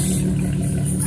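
The engine of a 2007 Dodge Charger with a Flowmaster dual exhaust idles close by. It gives a steady low rumble for about a second, loud and alone.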